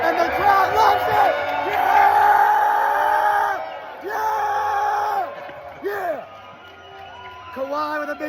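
A basketball arena crowd cheers and yells loudly for the Clippers, rising in waves of whoops and shouts with brief dips between bursts, while a voice talks excitedly over the roar.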